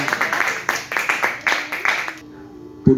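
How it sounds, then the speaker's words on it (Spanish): An audience at a church service claps in a brief round of applause that fades out after about two seconds, followed by a short voice. "Dale un aplauso fuerte."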